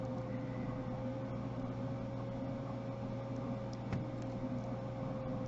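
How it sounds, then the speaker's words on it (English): A steady mechanical whir from a 3D printer hums continuously with a faint tonal whine and soft clicks, no voices. "The voice that you are able to hear is the voice of a 3D printer."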